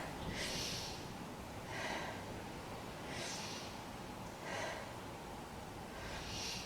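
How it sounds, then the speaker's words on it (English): Slow, deep breaths during a yoga session come in a steady cycle of long airy inhales and exhales, soft and close, with no talking over them. "Take 3 big breaths"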